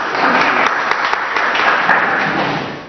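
An audience at a rap competition applauds steadily, a thick wash of clapping holding for a few seconds and fading slightly at the end.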